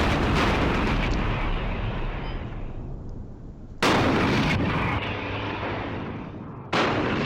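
In the Graviteam Tactics war game, artillery and gunfire boom loudly, each blast sharp and close before rolling off into a long fading rumble, with three separate detonations spaced a few seconds apart.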